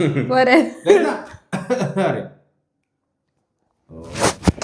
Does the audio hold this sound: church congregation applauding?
no